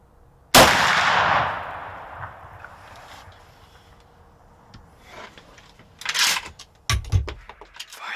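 A single sharp rifle shot cracks out during a Michigan deer hunt on the rifle season opener, loud and close, ringing off into the woods, followed by rustling and handling noises.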